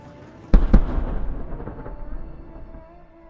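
Explosions from a GMLRS missile strike on a Russian 122mm MLRS on a Kamaz 535 chassis: a sharp double blast followed by a rolling, crackling rumble that fades over a few seconds, heard from a distance.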